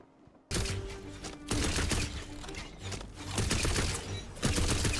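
Gunfire in Tiny Tina's Wonderlands, played on a PS5, bursts in suddenly after a quiet start and runs as dense, loud, rapid volleys of shots and impacts with a few brief dips.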